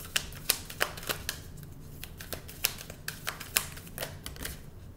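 Tarot cards are shuffled by hand, giving a quick run of sharp, close flicks and snaps at an irregular rhythm, with no talking.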